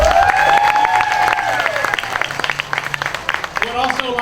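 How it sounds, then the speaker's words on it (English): Audience applause at a school community event in Walton County, loud steady clapping mixed with cheers and whoops from the crowd. "So let's give everybody a round of applause."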